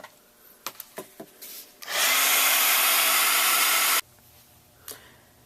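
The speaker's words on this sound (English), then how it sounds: "You can dry it with your heat tool." A heat tool blasts a steady, loud whoosh of hot air for about two seconds while drying watercolor ink on a stamped card, cutting off abruptly into quiet desk noises.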